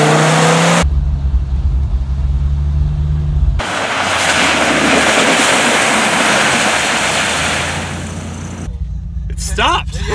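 A Dodge Viper accelerates loudly with a deep engine roar, then brakes hard on a slippery road, producing a long rushing, hissing slide before the noise cuts off and faint sounds follow.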